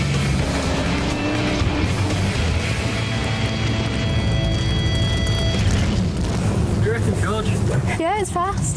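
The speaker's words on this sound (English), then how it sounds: "Georgia will be racing this homemade car against 31 hardened drivers" A homemade race car is driven fast in a race against other drivers, its engine roaring loudly and continuously with shifting pitch and tire noise, while voices talk over it.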